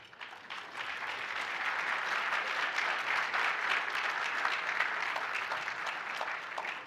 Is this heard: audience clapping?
yes